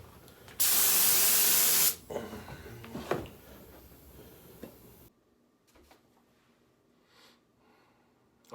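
A single loud, close spray-can burst coats a Ford F150 Raptor-style grille, hissing steadily for about a second before stopping, followed by light handling clatter and quiet.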